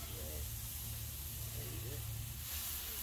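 Hamburger patties sizzle on a hot Blackstone griddle, giving a constant, close hiss that brightens toward the end, while someone talks over it.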